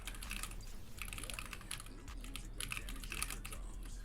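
Typing on a Lily 58 split mechanical keyboard, a steady run of quick, fairly faint key clacks over a low background hum, with no talking.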